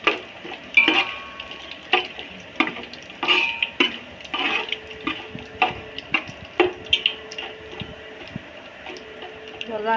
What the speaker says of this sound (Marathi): बघा, आता तेलामध्ये छान परतून झालेलं आहे.